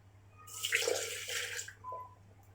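Mug-measured sugar and milk poured for a blender chocolate cake, a short splashy liquid pour lasting just over a second, close and fairly quiet, with a small trickle after.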